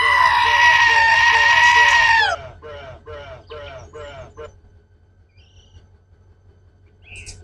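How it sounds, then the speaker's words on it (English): A custom goat-scream train horn on a locomotive in the Run 8 train simulator gives a loud, sustained harsh blast, then a series of five short bursts that fade out, with a faint low rumble underneath. "You got the goat scream horn that I had made and the bra bell."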